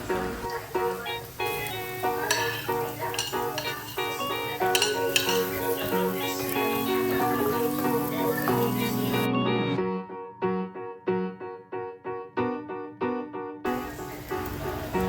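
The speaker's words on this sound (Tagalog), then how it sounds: "Igigisa na natin yung ating sisig." Sisig sautéing in a pan with garlic and onion, a steady sizzle under loud background music, with scattered utensil clinks and stirring scrapes.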